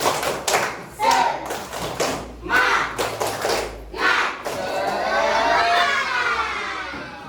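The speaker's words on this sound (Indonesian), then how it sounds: "Tepuk semangat." A classroom of students performs a rhythmic clapping chant during an ice-breaking activity in a computational thinking lesson, sharp claps in repeated groups with pauses, then a sustained stretch of many hands clapping together near and loud.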